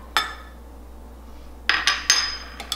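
Utensil clinking against a bowl while oyster sauce and sugar are stirred together for a Thai stir-fry sauce, one sharp tap and then a cluster of quick clinks and scrapes near the end, close and fairly quiet.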